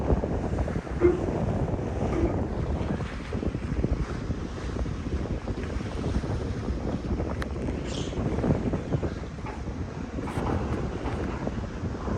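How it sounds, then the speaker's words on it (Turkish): Rough, roaring Black Sea off Samsun, Turkey, and strong wind battering the microphone, a continuous loud rush with surging waves and no talking. "Deniz kuduruyor vallahi"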